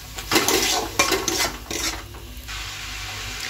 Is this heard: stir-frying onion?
yes